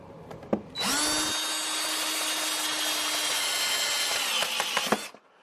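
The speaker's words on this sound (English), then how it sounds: "You're just going to want to drill through it." A power drill whines steadily for about four seconds drilling through plastic on a 2004 Subaru STI bumper, starting abruptly after a couple of taps and cutting off with a few clicks.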